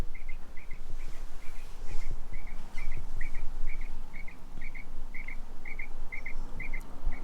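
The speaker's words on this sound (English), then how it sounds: "That's Caroline just having a little chirp." Pet quail in a garden enclosure give a steady series of short, bright chirps, evenly spaced about twice a second over a constant low outdoor rumble.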